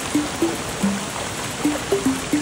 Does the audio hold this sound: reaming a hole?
no